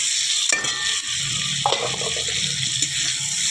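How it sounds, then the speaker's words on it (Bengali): Mustard paste and masala spices frying hard in a pan for sorshe ilish, a loud continuous close sizzle with a few scraping stirs of a spatula cutting through. "আর একটু মশলাটা কষিয়ে নেব"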